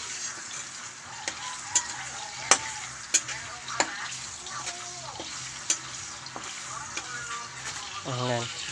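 Eggs fry in a pan with a quiet, steady sizzle, punctuated by sharp utensil taps and scrapes at irregular intervals; a voice speaks briefly near the end.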